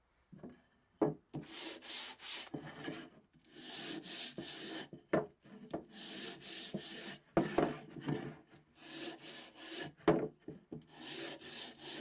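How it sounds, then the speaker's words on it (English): Wooden workpiece sanded by hand with a DIY block holding 5-inch hook-and-loop discs, heard as steady rhythmic back-and-forth rubbing strokes with brief pauses between passes, close and fairly loud, no talking. "a perfect sanding block for any beginner DIY"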